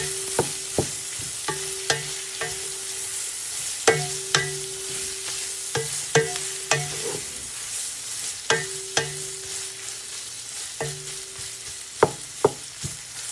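Diced ham sizzles steadily in a hot pan while a utensil clacks and scrapes against it in repeated sharp knocks, close up, with no talking.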